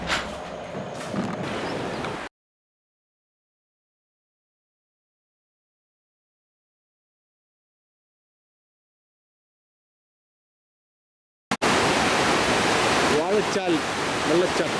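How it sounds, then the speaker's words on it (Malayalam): The Vazhachal waterfall gives a steady broadband roar of rushing water, heard briefly at the start, then cut off by a long silent gap, and returning loud and continuous near the end. "വാഴച്ചാൽ വെള്ളച്ചാട്ടം."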